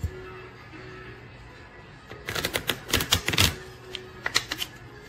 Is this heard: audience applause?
no